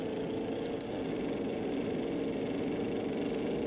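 A 1923 car engine in the racing game Assetto Corsa, lapping the Brands Hatch Indy circuit, drones steadily with a rough, buzzy mid-range tone, even and continuous, heard alone without talk.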